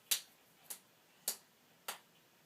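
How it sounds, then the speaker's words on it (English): A child pretending to be a seal claps their hands four times at an even, unhurried pace, each clap a sharp, close, bright smack with quiet pauses between. "I'm a seal and I can clap my hands"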